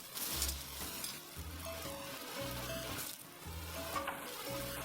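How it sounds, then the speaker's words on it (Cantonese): Chopped onion and aromatics stir-fried in a wok over medium-high heat with a little oil, giving a continuous sizzle broken by repeated scraping strokes of a spatula, close up and without talk. "再將頭先切好嘅配料 放入鑊嗰度炒，直至到炒到洋葱軟身為止"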